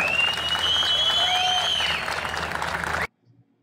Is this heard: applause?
yes